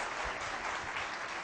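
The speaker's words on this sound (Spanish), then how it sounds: "Otro aplauso." Another short round of audience applause at a law lecture on legal logic and argumentation, soft, even clapping from a room full of listeners that holds steady without any voices.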